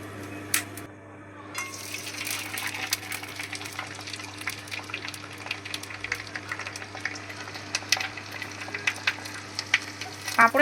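Small- and large-grain sabudana papad frying in hot oil, a steady crackling sizzle throughout with a few sharper spatters, close by and without talk.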